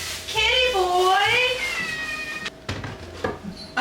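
A male house cat meows repeatedly in a home kitchen, with long rising and falling cries close by, while a person speaks in between and dishes clatter faintly.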